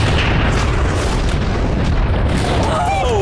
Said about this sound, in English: This is gonna be a massive explosion.